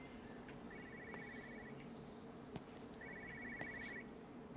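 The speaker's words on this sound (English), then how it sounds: "I hear a telephone ringing" In the game Everybody's Gone to the Rapture, an old telephone rings faintly in two separate bursts of trilling bells, quiet and distant against a soft ambient background.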